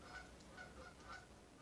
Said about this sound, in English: I don't know if you can hear the geese